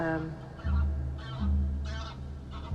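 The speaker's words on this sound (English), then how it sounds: "oh, we've got a goose flying past" A goose honks repeatedly while flying past outdoors, several loud nasal calls in an uneven sequence, with a low rumble of wind underneath.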